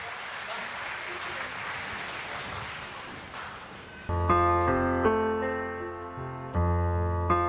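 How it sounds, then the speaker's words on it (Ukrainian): Audience applause welcomes the performers at a 2021 nasheed concert evening, a dense steady clapping that fills the first four seconds before sustained vocal and instrumental music takes over. "Встречаем бурными аплодисментами."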